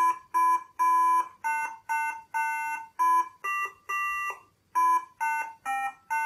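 A Sinclair QL computer beeps out Mary Had a Little Lamb as a string of buzzy electronic square-wave tones. The short notes come in an even rhythm with small gaps between them, clear and alone with no talking.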